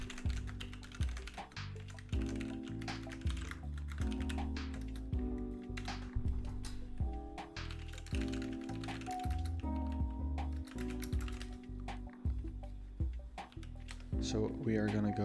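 Steady, rapid clacking of a computer keyboard while code is typed, near and continuous with uneven bursts of keystrokes.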